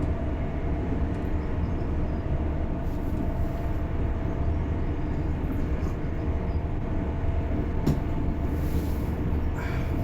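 A simulated train runs along the East Coast Main Line in a train simulator game, heard as a steady low rumbling drone with occasional brief clicks and a short sharp clank near the end, no talk.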